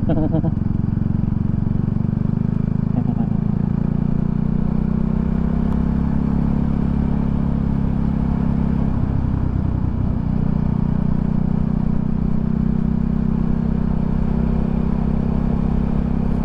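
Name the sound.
motorcycle riding with worn bearing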